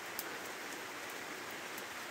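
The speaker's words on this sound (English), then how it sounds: "I just love the sound of rain on a tent." Rain patters steadily on a solid tent pitched for back-garden camping, a dense, even hiss of drops with occasional sharper taps, heard close and without voices.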